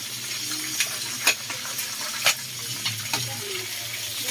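Pork belly for lechon kawali fries in hot oil with a continuous close sizzle. Scattered pops and light clinks sound over a low background hum.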